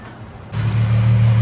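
A widebody Nissan Z engine cranks over and catches about half a second in, then settles into a steady, deep idle rumble that carries on loudly with no one talking.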